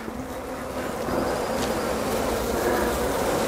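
A honeybee hive, a bare swarm with capped brood already present, hums with a dense continuous buzz of many bees, close and steady throughout.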